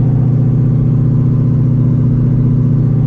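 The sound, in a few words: supercharged Ford Shelby GT350 engine revving on a dyno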